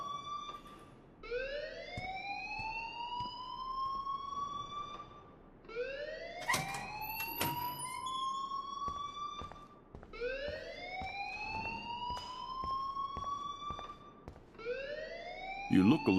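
A school alarm in Life is Strange wails in repeated rising siren sweeps, each lasting about four seconds, steady and prominent, with a few faint clicks between cycles.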